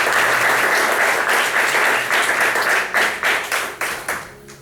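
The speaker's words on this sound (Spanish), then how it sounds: "dele otro aplauso al Señor, hermano" A church congregation claps together in a full, loud burst that thins out toward the end into a few separate, fading claps.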